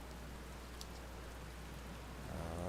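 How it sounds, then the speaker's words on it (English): Steady rain falls in an outdoor scene of the video game Outer Wilds, a continuous hissing patter under a low rumble that swells slightly near the end, with no talking. "good thing you never get bored of the rain"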